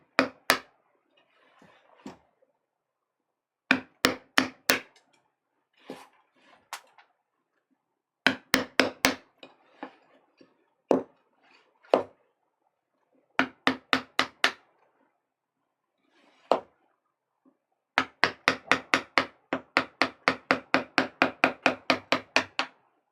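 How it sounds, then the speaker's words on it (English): A wood chisel cuts into a woodblock being carved for Japanese printmaking, giving sharp tapping strikes in irregular bursts with short pauses, then a long fast run of even rhythmic taps near the end, close and clear with no talk. "Switch to the smaller chisel to get into those corners."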